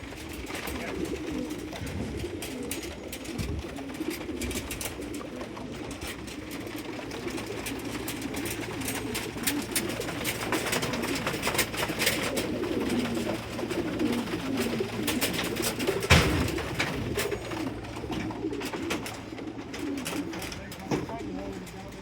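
Racing pigeons coo softly and repeatedly amid a busy, noisy background on basketing day before a race, with voices murmuring throughout.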